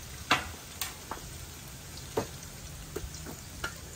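Garlic frying in a pan makes a quiet sizzle, broken by several sharp clinks and scrapes of a utensil at irregular moments.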